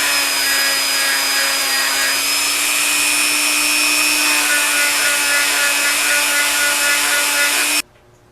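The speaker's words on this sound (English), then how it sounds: "I'll get after this with a Dremel sanding drum on the inside" A high-pitched Dremel sanding drum whines steadily while grinding the inside of a ring, a constant close buzzing hum that cuts off abruptly near the end.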